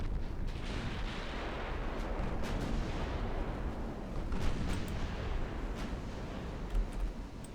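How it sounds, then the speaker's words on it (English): Continuous heavy naval gunfire from a full broadside in the Ultimate Admiral Dreadnoughts warship game, dense overlapping booms and rumbling blasts filling the whole stretch at steady high loudness with no talk. "Full broadside."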